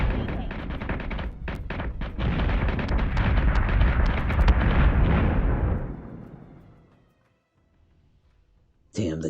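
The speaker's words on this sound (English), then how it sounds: "Damn the guns on those battle stars." Battlestar guns firing in the space combat game Battlestar Galactica Deadlock: a dense roar of heavy rapid booms and bursts builds and holds loudly for several seconds, then fades to silence before a sudden new burst at the end.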